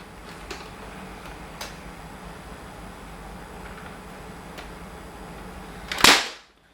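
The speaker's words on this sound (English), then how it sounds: "I'll fire off the Longshot first. Okay, followed by the 3000." A modified Nerf Longshot or AT3k blaster fires, giving a single loud sharp crack that decays quickly after a stretch of quiet room hiss with a few faint ticks.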